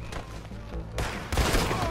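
Gunfire in the Western video game Red Dead Online, a rapid cluster of sharp shots ringing over busy in-game background noise, loud and close within a couple of seconds.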